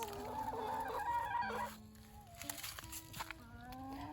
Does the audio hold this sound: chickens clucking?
yes